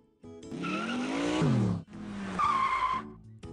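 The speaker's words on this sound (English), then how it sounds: "She jumped in a fancy sports car and sped off to the royal ball." A cartoon sports car in the Arthur Puppet Theater storytelling game screeches off with a loud tire squeal and revving engine, two bursts of skidding with a brief break between them, no talking.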